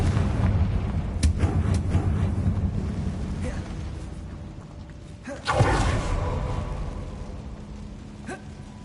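A Confringo blasting spell explodes in Hogwarts Legacy, one loud burst with a rumbling tail about midway, after a fainter crack earlier, set against low ambient game noise.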